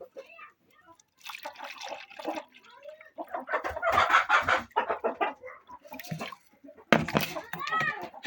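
A broody hen clucking and grumbling in low, broken murmurs up close, with a person talking nearby and some splashing of water.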